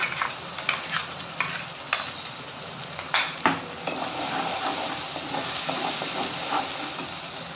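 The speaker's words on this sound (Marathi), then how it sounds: "त्याचा आता आपल्याला मस्त तेल सुटेपर्यंत मस्त परतून घ्यायचं आहे" Red chili masala sautéing in hot oil in a pan for Puneri misal, a steady close sizzle and hiss with repeated scraping stirs of a spoon at an uneven pace, no voices.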